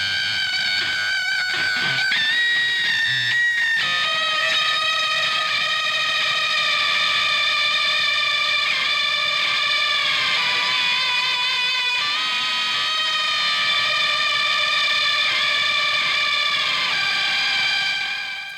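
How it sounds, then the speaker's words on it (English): Detuned synthesizer played through amplifiers, producing a dense, sustained organ-like chord with shimmering, beating overtones that shift in pitch early on, then holds loud and steady without talk. "And that just created this amazing organ sound."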